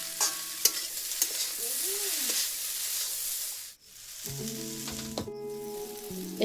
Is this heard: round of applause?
no